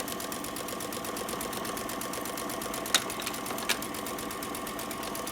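A sewing machine back stitches the start of a seam on a Christmas appliqué pillow cover, its needle hammering in a fast, even rhythm throughout, with two brief sharp clicks partway through.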